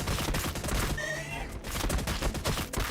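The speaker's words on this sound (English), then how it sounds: "Let's go ahead and send the Punisher Gatling Cannon at close range." The Punisher Gatling Cannon of a Leman Russ tank fires in Warhammer 40K: Battlesector, a loud rapid stream of gunfire bursts with a high whine in the middle, heavy and close.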